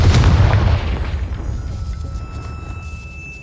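A Confringo fire spell in Hogwarts Legacy, cast at a castle gatehouse, bursts with a loud, deep explosive boom. A long rumbling tail then slowly fades, with no talking.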